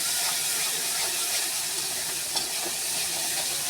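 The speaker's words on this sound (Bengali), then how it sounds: "মশলাগুলো ভালো করে কষিয়ে নেব।" Spices being sautéed in a pan for chicken curry give off a steady close sizzle and hiss, with soft stirring scrapes and one small clack partway through.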